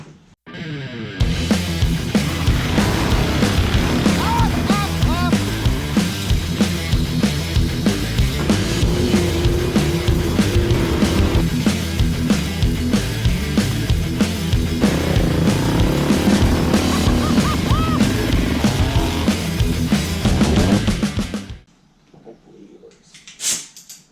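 Coleman BT200X minibike fitted with a Predator 301 engine and Mikuni carb on a top speed run, its engine droning loud and steady for about twenty seconds before cutting off abruptly, leaving faint quiet.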